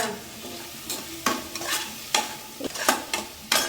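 Tomatoes with salt sautéing in a pan, a steady soft sizzle broken by a series of scraping stirs from a spoon against the metal, close and with no speech.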